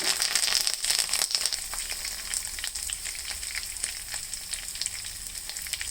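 Curry leaves fry in hot oil for a coriander chutney tempering, giving a loud, steady sizzle with sharp crackles and pops, close up and without talk.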